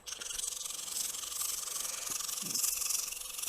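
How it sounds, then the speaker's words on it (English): Wood being sanded by hand with sandpaper to remove tool marks on a pepper grinder, a steady, close, soft rubbing hiss that continues without pause and stands alone with no talk. "So first grit of sandpaper is just getting rid of the tool marks and finding the final shape."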